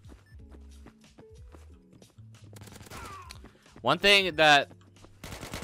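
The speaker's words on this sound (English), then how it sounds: "Teammates just shooting each other or what?" Gunfire in a first-person shooter video game cracks in rapid bursts, loudest in a tight cluster near the end, mixed with in-game effects while a player talks over it.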